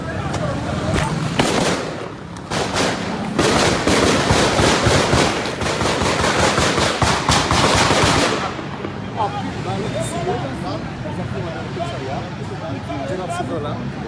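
Police gunfire in a street confrontation: loud, rapid bursts of sharp shots crowd the first eight seconds, then give way to fainter background noise, with voices talking through it.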